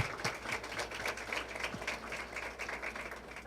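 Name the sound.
audience applause at awards ceremony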